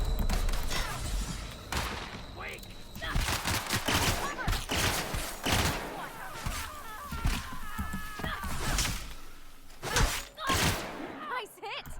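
Gunfire in the video game The Outer Worlds, with repeated sharp shots and bursts of fire mixed with impacts and thuds, heard under frequent talk over game music and effects.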